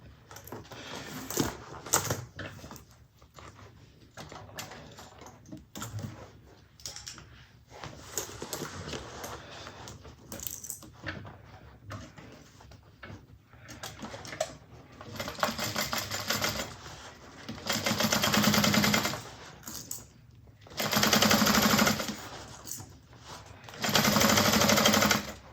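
A sewing machine stitches across a fabric bag in several runs of rapid mechanical chatter, with short pauses between them. The last bursts are louder and longer, and no one speaks.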